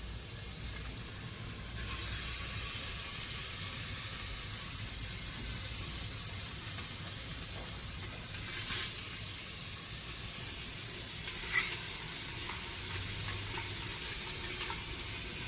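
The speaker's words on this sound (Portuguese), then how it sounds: "Esses pedaços que tem um pouquinho mais de gordura, eu vou colocar virado já um pouquinho para baixo para liberar um pouquinho dessa gordura na panela." Fatty brisket pieces searing in a very hot pot, a constant loud sizzle and hiss with occasional brief spits and crackles, close and steady throughout.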